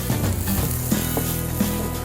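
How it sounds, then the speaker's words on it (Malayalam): Chopped shallots sautéing in a pan on the way to light brown, giving a steady close sizzle with a few soft stirring scrapes and no talk. "ചുവന്നുള്ളി ഒരു ലൈറ്റ് ബ്രൗൺ കളർ ആകുന്നവരെ നമ്മൾ നന്നായിട്ട് ഇളക്കുക"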